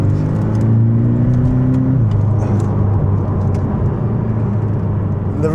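Porsche 718 Boxster GTS driven hard, loud engine note rising then dropping as the car lifts off, followed by steady road rumble and whir, heard close from inside.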